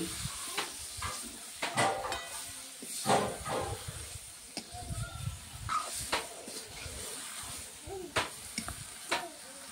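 A potato, pumpkin and Malabar spinach curry sizzles and hisses in a hot pan while being stirred, with irregular scraping strokes and bursts of steam throughout.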